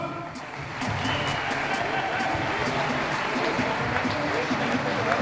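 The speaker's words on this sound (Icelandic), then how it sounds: "Gefum honum gott klapp." An audience breaks into applause at an event honouring a three-point contest winner, sustained even clapping that starts after a short moment of murmur and continues steadily.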